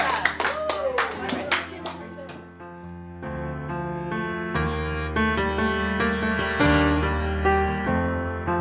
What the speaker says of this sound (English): Everybody clap for Kalia and Jennifer and yourselves.